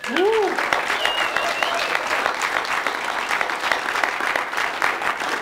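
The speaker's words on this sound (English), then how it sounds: "Please, a round of applause." A live-stream audience gives a speaker a dense, steady round of applause that runs the whole stretch, with a brief vocal whoop or cheer near the start.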